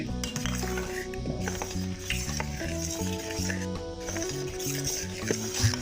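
A spoon stirs thick custard with Oreo biscuit cream mixed in, making soft, continuous scraping and swirling strokes in a pan under steady background music.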